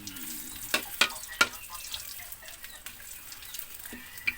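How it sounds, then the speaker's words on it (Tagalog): Ingredients for a native chicken stew sautéing in a pan, a soft steady sizzle broken by a few sharp clinks of a utensil against the pan. "Magigisa na tayo."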